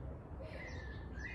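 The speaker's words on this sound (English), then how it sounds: "Good morning, birds." Birds chirping outdoors in the morning, a faint thin whistled call rising briefly over a steady low rumble of background noise.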